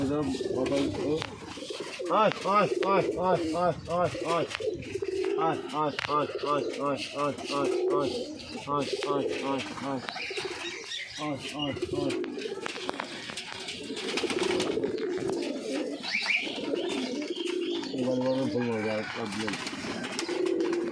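Rajshahi Giribaj pigeons coo in rolling, repeated bursts close by, with a person talking intermittently over the birds.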